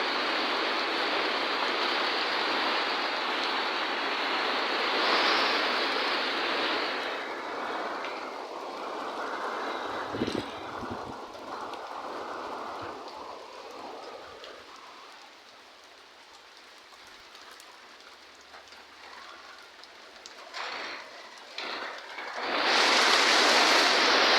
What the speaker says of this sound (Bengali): এই যে বৃষ্টি কিন্তু নেমে গেছে, আর এত শব্দ হইতে আছে